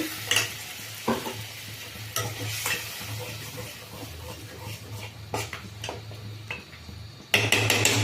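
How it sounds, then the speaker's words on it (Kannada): Masala sizzles and fries in hot oil with a steady crackle, interrupted by occasional sharp scrapes and clinks of a spoon stirring the pan. "ನೋಡಿ, ಈಗ ಮಸಾಲೆ ಎಲ್ಲ ಫ್ರೈ ಆಗಿ ಎಣ್ಣೆ ಬಿಟ್ಕೊಳ್ತಾ ಬರ್ತಾ ಇದೆ"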